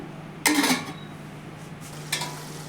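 A spoon scraping and clanking against a metal pressure cooker while potatoes and capsicum are stirred, two brief metallic bursts over a steady hum.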